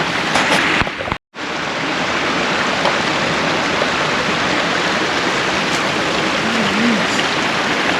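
A stream swollen with snowmelt rushes loudly and steadily close by, a dense, unbroken roar of moving water with only a momentary dropout near the start.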